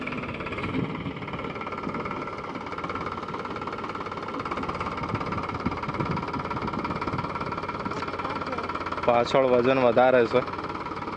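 A tractor engine runs steadily during a peanut harvest in the field, a continuous mid-pitched drone with a brief louder surge near the end, while someone talks over it.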